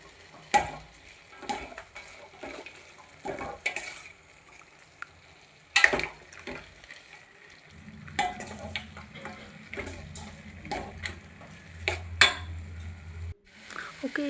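Field beans being stir-fried with turmeric in a pan, with repeated scraping and clinking of a spoon against metal over a soft sizzle that grows steadier toward the end.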